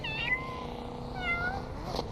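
A person imitates a cat with a couple of high, wavering meows, close and fairly loud, without speech, during a Need For Speed Unbound online racing session.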